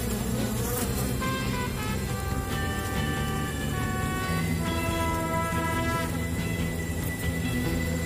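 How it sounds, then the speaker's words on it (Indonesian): Honey bees drone continuously around their nest outdoors, a dense steady buzz with no speech over it. "Ini lebah-lebah madunya."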